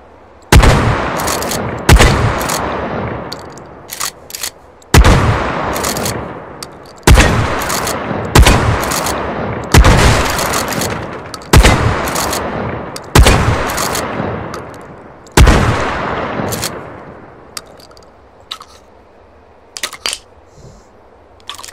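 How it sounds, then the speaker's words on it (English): A pump-action shotgun in the VR shooter H3VR booms in about nine loud, close shots spaced a second or two apart, each with a sharp crack and rolling tail, the last ones fading into quieter handling clicks. "Love a pump action shotgun."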